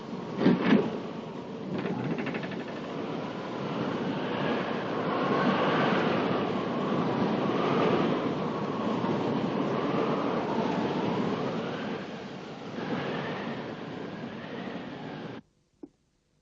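Wind blows outside in a long, steady roaring gust that swells and eases over several seconds, low and rumbling like a storm, with no voices before it cuts off abruptly.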